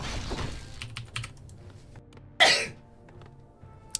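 A single sharp, loud sneeze bursts out close to a microphone about midway through, standing out above faint keyboard clicking and quiet room noise.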